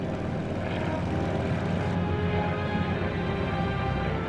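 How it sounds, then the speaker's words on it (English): A steady, dense engine roar from a propeller airplane, loud and constant, with no voices. "I have Mr. Stark's plane in my sights."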